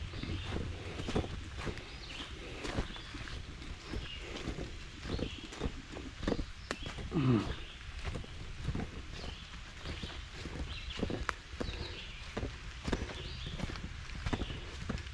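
Small camera mini tripod rattles with a steady, rapid clatter in step with hiking footsteps along a trail in Middle Creek Wildlife Management Area, close to the microphone with light wind noise throughout.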